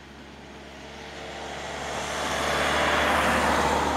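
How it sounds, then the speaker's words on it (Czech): A car passing on a road, its broad rushing noise swelling steadily louder as it approaches over about four seconds, with no voices. "Pozor, auto."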